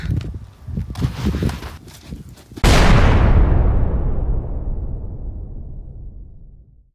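A loud, close airstrike explosion booms abruptly and rumbles away over several seconds, after a stretch of busy gunfire and clatter.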